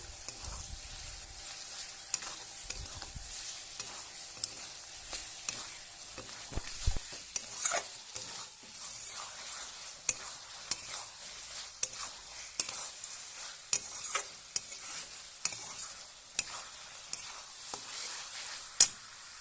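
Ground ginger and garlic paste fries in oil for a chicken and jackfruit curry, giving a steady soft sizzle punctuated by regular clinks and scrapes as a spoon stirs the pan, with no talking.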